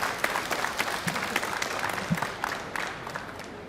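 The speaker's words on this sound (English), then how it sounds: "The delayed reaction with the clapping there." Curling spectators at the 2013 European Championships men's match, Norway against Switzerland, breaking into scattered, moderately loud clapping with distinct individual claps and a faint murmur of crowd voices underneath.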